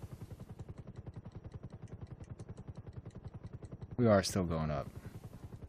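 A video-game helicopter chops quietly and rhythmically in a fast, steady pulse of rotor beats, with someone briefly speaking over it near the end.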